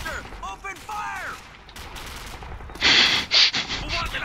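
Gunfire in the video game Call of Duty 4: Modern Warfare, a loud burst of rapid automatic shots that follows brief shouted voices and a short lull.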